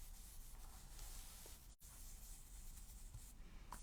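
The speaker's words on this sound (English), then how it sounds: "Rub your colour on." Soft, steady scratchy rubbing of ink colour onto a stamped polar bear image on a handmade Stampin' Up! hexagon card, continuous and close with one brief pause midway.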